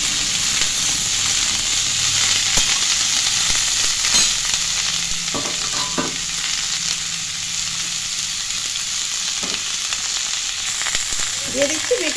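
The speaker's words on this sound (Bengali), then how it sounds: "ভালো করে নেড়ে নিচ্ছি।" Fish pieces and potatoes sizzle steadily as they fry in a pan, with a few soft scraping stirs and clicks over the continuous hiss.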